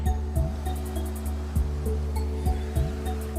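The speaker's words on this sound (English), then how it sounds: "just on the left side of the temple you see the river is" A river of Himalayan water flows beside a Shiva temple near Jamuni on the way to Sikkim, India. Its steady rushing wash sits under a low constant hum and a few rhythmic thumps.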